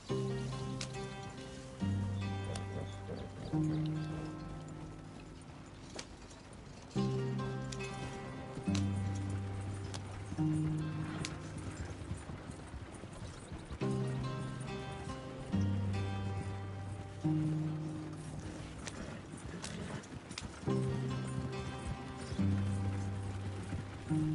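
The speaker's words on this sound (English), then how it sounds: "Oh, wild horses." Wild horses gallop in the Red Dead Redemption II video game, their rhythmic hoofbeats rolling steadily beneath a looping musical score, loud and continuous with no one talking.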